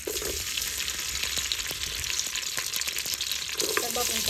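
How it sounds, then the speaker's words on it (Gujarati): Garlic and onion frying in hot oil in a pot for a home-cooked fish recipe, a loud continuous sizzle with stirring scrapes and clatter, close and unbroken. "હવે નાખ્યું છે તેલ હવે નાખવાનું છે લસણ ને ડુંગળી"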